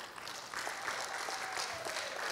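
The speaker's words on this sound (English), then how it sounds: "We should be clapping." A church congregation clapping during a Sunday morning service, a faint, steady patter of many hands from across the room that continues without a break.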